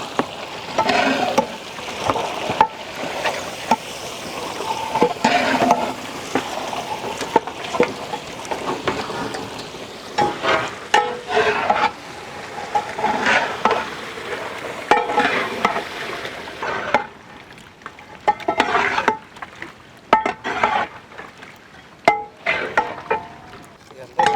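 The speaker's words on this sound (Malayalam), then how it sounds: "പതുക്കെ പതുക്കെ പതുക്കെ ഈ ബട്ടറിൽ ഫ്രൈ ചെയ്തെടുക്കണം അതിനെ" Chicken fries slowly in butter in a pan, a soft sizzle broken by frequent scraping and stirring clatter, heard close up in village-style outdoor cooking.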